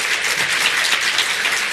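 Steady applause from a crowd, a dense wash of clapping that holds evenly without pause and with no talking over it.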